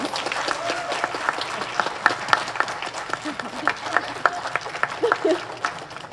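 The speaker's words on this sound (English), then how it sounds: "A round of applause to all our wonderful contestants" Audience members at a high school drama monologue contest clap for the contestants gathered on stage, with loose, uneven claps and a few sharp nearby ones, a voice or two speaking over the applause.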